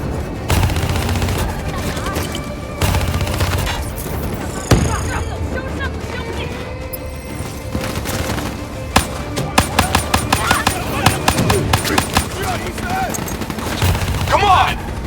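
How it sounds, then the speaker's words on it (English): Weapons fire in Call of Duty Black Ops 3 combat, including a swarm launcher, with loud booms, dense rapid gunfire bursts and a swelling rush, plus voices shouting over the battle. "Hit him with the swarm launcher!"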